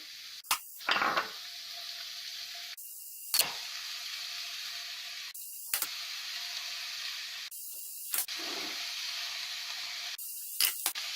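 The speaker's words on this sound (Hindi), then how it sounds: "अब हम इसमें सब सब्जियां डाल देते हैं।" Vegetables go into a hot pan for an Indo-Chinese vegetable manchow soup, sautéed over medium gas. The sizzle comes in repeated bursts, each starting with a sharp hiss that settles into a steady frying crackle, close and loud, with no talking.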